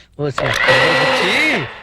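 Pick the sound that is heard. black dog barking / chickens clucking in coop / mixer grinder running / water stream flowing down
mixer grinder running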